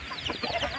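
Young chicks being raised for fast growth peep in a quick flurry of high, overlapping chirps, close and fairly steady through the short moment, with no talking.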